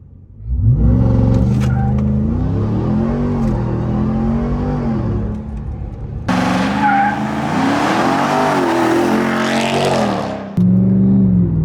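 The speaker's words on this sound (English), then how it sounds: "All right, first launch in a Ram TRX." Ram TRX pickup with a 707 hp engine launching hard, its engine roaring and revving up through gears with tire squeal, loud and close, followed by a second surging run.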